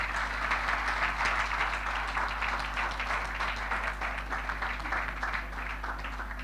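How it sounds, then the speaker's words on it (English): A church congregation applauds a visiting appellate court justice, a moderate round of clapping from many hands over a low steady hum, continuing evenly throughout. "Please, can we give my Lord a good round of applause?"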